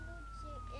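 Ambulance siren in the BeamNG.drive driving game, a faint, brief, steady electronic tone sounding in the distance for under a second.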